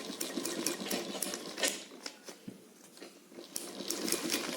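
A pedal-operated sewing machine stitches straight lines on paper for practice, giving quiet, irregular mechanical clatter and rapid needle ticks in short bursts with brief pauses, close by, with no voices.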